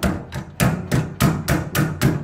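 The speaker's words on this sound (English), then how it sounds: "grab the claw of our hammer or some pliers or a chisel or something and just burr that over" A hammer claw strikes a lock nut and threaded rod to burr over the thread on a building tie-down. About eight sharp metallic blows land in a steady rhythm, close and loud, with no talking.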